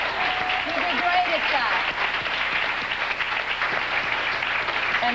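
A studio audience on a morning TV talk show claps steadily while people talk over the applause.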